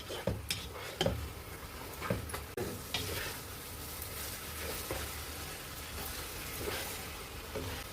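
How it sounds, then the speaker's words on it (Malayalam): Chicken pieces fry in a pot for Thalassery chicken biriyani, a soft continuous sizzle broken by a few sharp clanks and scrapes of the stirring spoon early on, then quieter stirring. "ഇത് നമുക്ക് ഇതിലേക്ക് ഇട്ട് കൊടുക്കാം. ഈ അല്പം ഒന്ന് കൂട്ടി വെച്ചിട്ട് നന്നായിട്ട് ഇളക്കി കൊടുക്കാം."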